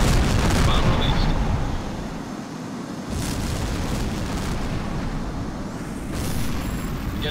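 A bomb explosion from a Eurofighter Typhoon airstrike in the flight combat game HAWX, a dense, loud roaring blast and rumble sustained for several seconds with a faint voice underneath.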